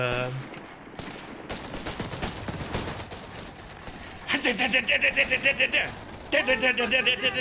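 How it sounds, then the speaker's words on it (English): A 17-pounder gun firing from down on the ground: two loud, close stretches of rapid, evenly spaced reports, after a noisy, rumbling lead-in. "the gun is firing down there on the ground"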